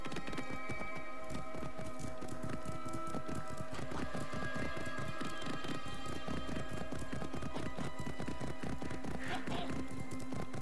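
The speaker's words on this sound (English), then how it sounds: "we're just going to speed up the video as we ride over to it, my horse" Hooves pound rapidly and rhythmically as a horse gallops in the video game Assassin's Creed Origins, steady over game ambience and light music.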